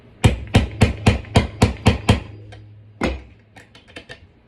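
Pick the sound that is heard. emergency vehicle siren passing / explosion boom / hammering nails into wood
hammering nails into wood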